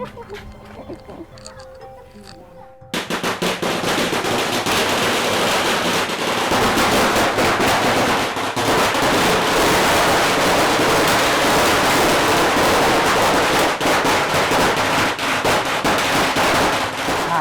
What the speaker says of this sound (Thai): เดี๋ยวเรามาจุดประทัดพร้อม ๆ กันเลย